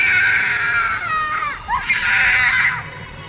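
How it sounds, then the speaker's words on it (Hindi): A person surrounded by evil spirits in a horror story lets out a loud, high, wailing scream that rises and falls for about three seconds, close and alone. "उसके बाद बस उसकी चीखें सुनाई दी।"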